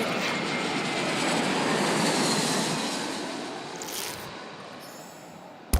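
A fixed-wing airplane climbing after takeoff in the video game Genital Jousting, a steady broadband engine roar that swells slightly then eases, with a brief sharp click at the end.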